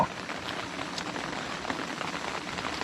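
Rain falls steadily during a storm, a dense, even hiss of drops on surfaces with no pauses across the short stretch.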